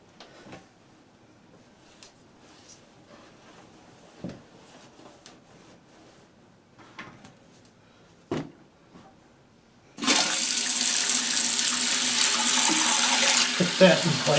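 A household toilet flushes after a fill valve repair, with a sudden loud rush of water that keeps going for several seconds after quieter handling clicks and knocks.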